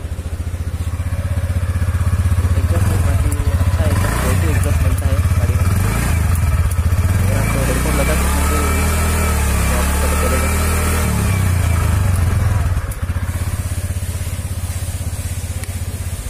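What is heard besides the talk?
TVS Ntorq 125 scooter exhaust note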